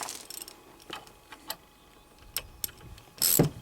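A wrench works loose the brake caliper bolts on the front brakes of an Opel Vectra B, producing scattered sharp metallic clicks and taps, then a louder, harsher ratcheting burst near the end.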